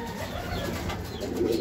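Soft, low cooing from racing pigeons nearby, a steady murmuring call with faint rustling in the background.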